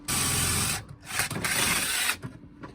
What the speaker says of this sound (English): I just drilled out the actual screw